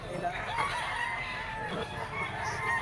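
A yellow-legged bull stag gamecock crows at a fowl seller's stall, its drawn-out call fairly faint against background murmur and farmyard noise.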